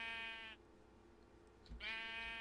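Two sheep bleats in the Minecraft video game with the Buildcraft mod: a loud, near, wavering bleat at the start and a second after a short quiet gap, with no talk.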